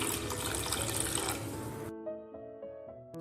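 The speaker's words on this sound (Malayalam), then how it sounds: "ഇതിലേക്ക് നമുക്ക് 1 കപ്പ് തേങ്ങാപ്പാലാണ് ഞാൻ ഒഴിക്കുന്നത്." A cup of coconut milk is poured into condensed milk for a cake batter, a steady liquid pour that stops abruptly, followed by a few faint clinks and taps.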